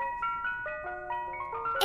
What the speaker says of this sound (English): It's Buzz's ice cream truck.